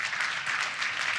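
A brief burst of audience applause at a buyer panel event, a steady wash of many hands clapping, moderately distant and fairly soft.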